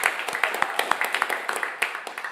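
Audience clapping during a live radio performance broadcast, a short burst of scattered hand claps at moderate level with a voice talking over it.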